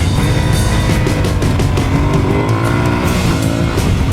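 An Aprilia Tuareg motorcycle ridden on dirt, its engine loud and close as it revs and pulls through a corner, with the tone rising and falling over a rough rumble.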